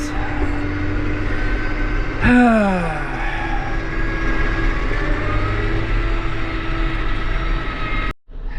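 A John Deere 8300 tractor engine runs at a steady loud drone, with a brief whining rise and fall in pitch early on and an abrupt cut near the end, with no talking.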